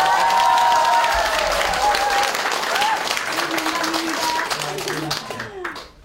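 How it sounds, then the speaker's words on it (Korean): At a Buddhist college gathering in Yeongdong, a crowd breaks into loud, sustained clapping that swells early, holds for several seconds, then fades away toward the end, with some talk mixed in underneath. "다시 한번 큰 박수"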